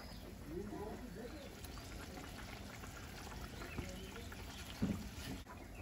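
Pieces of catla fish go into a cauliflower and potato curry bubbling in a wok, giving a soft continuous simmer and a brief splash near the end, quiet and close.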